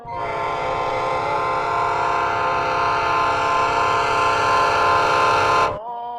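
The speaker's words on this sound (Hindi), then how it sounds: "सबसे पहली चीज जो हमें याद आती है वो है निजामुद्दीन का रेलवे स्टेशन।" A train at Nizamuddin railway station sounds a loud, sustained horn for nearly six seconds before it cuts off abruptly, leaving the low rumble of rail traffic.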